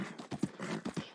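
Horse hooves clip-clopping in a video game while riding, a quick run of about seven soft thuds in an uneven galloping rhythm, fairly quiet and close.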